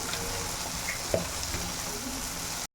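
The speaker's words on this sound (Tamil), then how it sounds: "வதக்கி விட்டுக்கலாம்." Tapioca stir-frying in a pan with green chilies and a little chili powder gives a steady, close sizzle and crackle, with one brief clatter of stirring near the middle and a sudden cut-off at the end.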